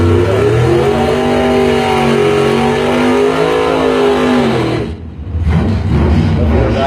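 A 2000 Mustang drag race car at a bracket race revs hard and accelerates, its loud engine note climbing steadily before a brief drop and a fresh surge, close and dominant.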